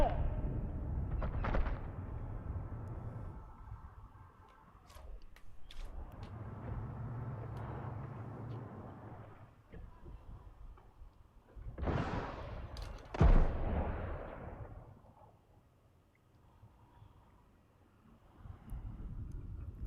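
Unsilenced gunfire in Sniper Elite: Resistance, played on the hardest difficulty, comes as heavy booming shots and rumbling blasts scattered through the clip, with one especially loud, sharp report in the middle and quieter stretches between.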